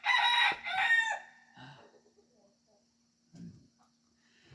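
A rooster crows loudly and close in a chicken coop, followed by a few soft clucks from the chickens against a quiet background.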